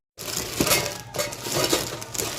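Metal bowls with lids are handled up close. Clinks, scrapes and light crinkling come in irregular bursts.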